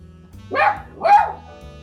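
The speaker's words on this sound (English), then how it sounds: "Uh-oh, dog." A dog gives two sharp barks about half a second apart, moderately close, over quiet room hum in a workshop where a surfboard coffee table is being built.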